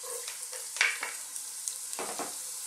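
Garlic sautéing in cooking oil in a pot for seafood misua, giving a soft, steady sizzle with a few scraping stir sounds, moderately close and without talk.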